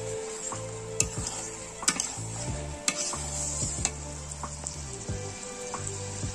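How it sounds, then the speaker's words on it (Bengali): Meat with a few potato pieces being kosha stir-fried in a pan, a steady sizzle broken by repeated scrapes and knocks of the spatula against the metal, close and without voices. "এই যে গাইস দেখতে পাচ্ছো এখানে হচ্ছে মাংস কষানো হচ্ছে"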